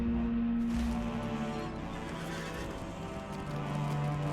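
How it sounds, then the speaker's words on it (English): A horse's hooves clip-clop as a rider mounts and moves off in the Lord of the Rings Online game, a steady rhythmic clatter over tonal game music. "I get on my horse."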